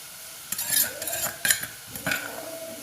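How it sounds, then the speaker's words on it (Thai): Pounded curry paste of fingerroot, shallots and dried chillies stirred into a pot of boiling water for Thai curry, with a few sharp spoon-against-pot scrapes and clinks over soft bubbling. "เดือดแล้วเขาก็ ใส่ เครื่องแกงที่เขาโขกไว้นะคะ"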